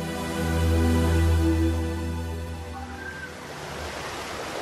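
A swelling river flows in a broad, steady rush of water, loud and continuous, with a low droning tone laid over it during the first half before the water noise carries on alone.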